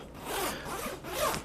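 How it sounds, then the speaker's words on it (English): The zipper on a KUIU Encounter hunting jacket is pulled in two quick rasping strokes, close and fairly quiet, with no talking. "Zippers"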